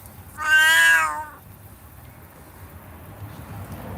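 A sick, dying male cat lets out one loud, drawn-out meow of about a second, then goes quiet against faint room noise.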